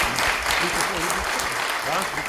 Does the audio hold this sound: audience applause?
yes